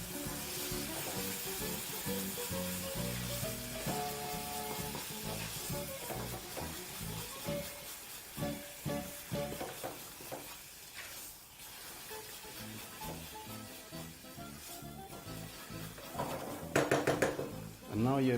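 Empanada filling with fresh coriander stirred in a pan: irregular scrapes and knocks of a utensil against the pan over a low sizzle, with a spoken voice running through much of it and a brief metallic clatter near the end.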